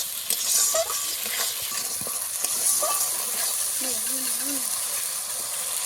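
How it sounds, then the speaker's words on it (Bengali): Chili, turmeric and ginger frying in hot oil, a steady bright hiss of sizzling with occasional stirring scrapes, close up, while a voice talks softly underneath. "লঙ্কা হলুদ আর আদাটা ভালো করে আমি একটু ভেজে নেব।"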